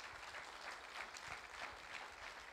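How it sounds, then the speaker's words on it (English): A church congregation applauds competition winners, a soft, even patter of scattered clapping that sounds distant and faint, lasting a couple of seconds. "So big round of applause to all of them."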